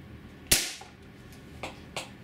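Benjamin HB22 .22 caliber multi-pump pellet pistol, pumped eight times, fires one sharp, loud crack that decays quickly, followed by two fainter clicks or ticks in an otherwise quiet space.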